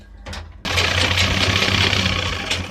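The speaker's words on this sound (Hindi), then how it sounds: "इसके ऊपर रख के क्लब की सिलाई लगा देंगे।" A sewing machine runs a continuous fast stitch along a trouser waistband after a brief start, its steady whirring motor hum loud and close, with no voices.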